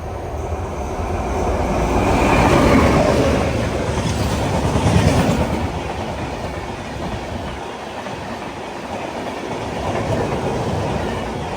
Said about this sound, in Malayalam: ഇനിയിപ്പോൾ രാജധാനി വരുന്ന കാണാം